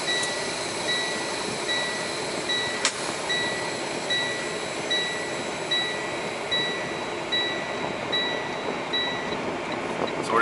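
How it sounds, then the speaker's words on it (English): A semi truck reverses under a trailer onto the fifth wheel, giving a steady engine rumble with a rhythmic, repeating reverse beeper pulsing throughout at close range. "I'm gonna back into the trailer, release a little pressure on that pin"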